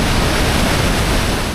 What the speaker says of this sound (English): huge waterfall, huge river that flows right into these drop-offs,